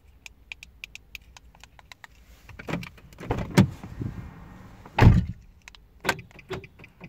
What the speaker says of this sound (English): Open the door and close it.